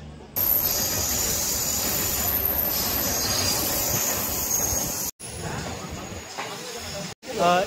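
An Indian Railways train runs along the track, heard from inside a chair car as a loud, steady rumble and hiss with high wheel squeal; the noise cuts out briefly twice.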